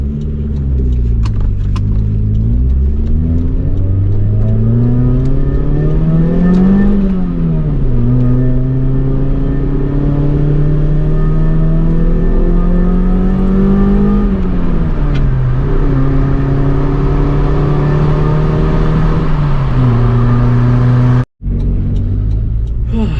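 A 1990–93 Acura Integra DA9 drives on surface streets just after leaving the freeway. Inside the cabin its engine makes a loud, continuous drone that rises and falls through several gear changes, and the sound cuts out briefly near the end.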